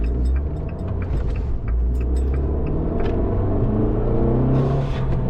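A remapped Abarth with a new intercooler drives along, its engine a low, steady rumble with road noise heard from inside the car, swelling slightly toward the end.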